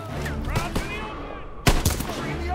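Battlefield gunfire in Call of Duty: WWII, a few scattered rifle cracks followed by one loud close blast and a quick follow-up shot, mixed under shouted voices and wartime game noise.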